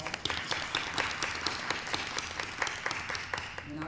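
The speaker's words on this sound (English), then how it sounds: "Let's give them a round of applause." Applause from attendees at a school district monthly board meeting honoring the basketball teams, a steady wash of many hands clapping for about four seconds with a faint voice underneath.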